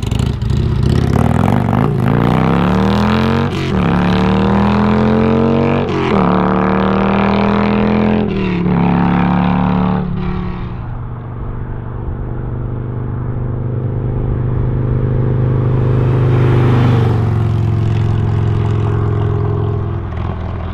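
Harley-Davidson Tri Glide trike fitted with a 131 kit accelerating hard, loud engine rising in pitch through several gear changes, then settling into a steady drone before another climb.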